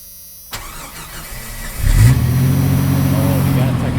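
A Jeep Cherokee XJ engine starts up and settles into a steady, close, loud idle with a low rumbling drone that holds for several seconds.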